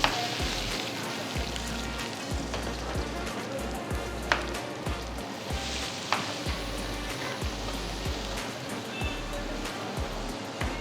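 Crushed, flattened ginger sizzles in a pan on a separate kitchen stove, giving a steady, loud crackling hiss with scattered pops that runs throughout, with no talk over it.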